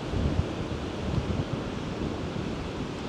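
Large ocean waves crash and roll continuously on the coast of South Batan, Batanes, mixed with strong gusting wind buffeting the microphone in a loud, dense roar.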